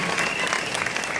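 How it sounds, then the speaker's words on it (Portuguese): Concert audience applauding at a show at Sesc Pompeia, a dense, steady wash of clapping hands filling the whole short moment with no talk over it. "Eu gostaria de pedir uma salva de palmas de novo a todos vocês aqui à presença"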